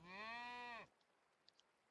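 A single long, harmonic moo from one of the cattle in a cow barn, near and clear, ending abruptly and followed by quiet barn ambience with a couple of faint clicks.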